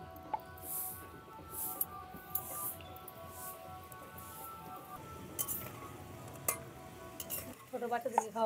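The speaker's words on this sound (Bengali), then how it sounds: "আবার এইগুলো আমি ভাজার জন্য দিয়ে দেব।" Kaju nimki dough pieces frying in hot oil, a soft steady sizzle with intermittent clinks and scrapes of a utensil against the pan, louder clatter near the end.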